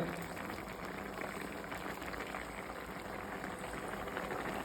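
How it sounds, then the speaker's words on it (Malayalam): A pot of snakehead fish curry bubbling steadily at a low, even level, a continuous soft boiling hiss with no voices. "വരാലകറി നല്ല രീതിയിൽ തിളച്ച് തുടങ്ങിയിട്ടുണ്ട്"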